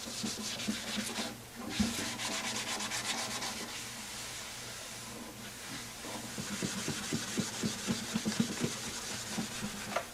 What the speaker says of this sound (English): strokes with the grain in the final sanding